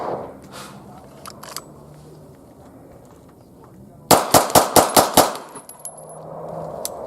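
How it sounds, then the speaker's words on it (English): Six rapid gunshots fired at a target on a shooting range ring out as loud, sharp cracks in a quick, even burst, with no talk over them. "6 rounds on target, and you're going to hear me count 1, 2, 3, 4, 5, 6, and hopefully that's how fast I can pull the trigger"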